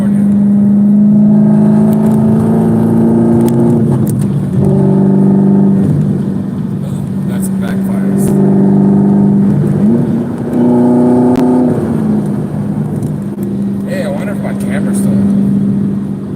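A car engine drones steadily while driving on a California highway in 102-degree heat, a loud continuous hum with shifting pitch as it speeds up and slows, running throughout.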